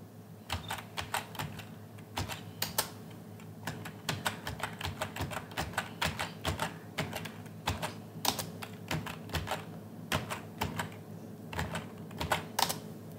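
Rapid, steady clicking of computer keyboard keys pressed in chords to enter Braille dot patterns in Perky Duck software, close and clear with an irregular rhythm and no talking.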